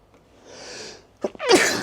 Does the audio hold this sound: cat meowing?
no